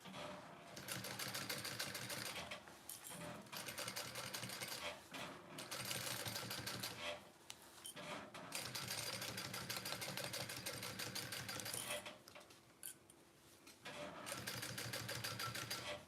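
A sewing machine stitches zipper tape on a messenger bag in several bursts of rapid, buzzing motor clatter, each a few seconds long and broken by short pauses, close and clear with no talking.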